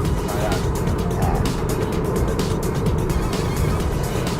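A 2018 Mazda CX-3 1.5 XDL driving, with a loud, steady broadband rush of engine, road and wind noise throughout, close up, while someone talks over it.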